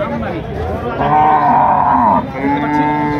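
Dairy cows low loudly and at length at a busy cattle market, one long moo followed by another, with faint crowd chatter in the background.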